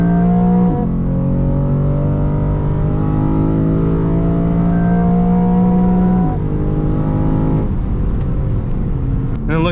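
A Lexus GS F engine revs hard during a rolling acceleration from about 50. The loud, close drone climbs steadily in pitch, breaks briefly as the car shifts gears, then pulls again. Some wind and road noise sit under it.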